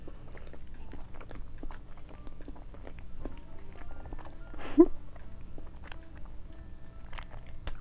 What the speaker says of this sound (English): Now we're gonna try this tuxedo cake